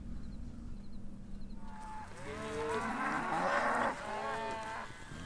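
Mashona and Angus cattle on a farm moo on a quiet morning, one long, drawn-out, wavering low call and then a second, moderately near, with faint background noise and no talk.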